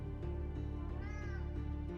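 A cat meows in a video game, tonal calls with a rising and falling pitch over a steady layer of game music. No one is talking.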